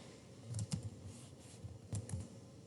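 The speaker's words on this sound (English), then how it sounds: "And now I'm going to type in conch shell." Quiet typing on a computer keyboard, a few short clusters of soft key clicks over faint room hum.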